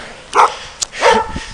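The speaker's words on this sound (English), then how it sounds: "You see someone vlogging, you just start barking." A dog barks twice nearby outdoors, two sharp close barks with a brief yip between them.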